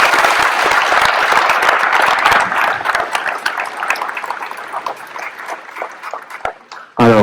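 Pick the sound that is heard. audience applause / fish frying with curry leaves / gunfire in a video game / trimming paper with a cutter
audience applause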